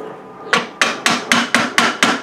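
An old 2x4 push stick taps a wooden wedge tight on a DIY hummingbird whirligig: seven sharp, evenly spaced wooden knocks, close and fairly loud, with quiet between them.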